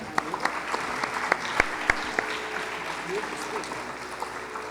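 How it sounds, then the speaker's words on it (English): An audience at an arangetram dance recital applauds after the performance, with a modest crowd clapping and a few sharp, close claps standing out. Voices murmur underneath. "Let's give them another round of applause"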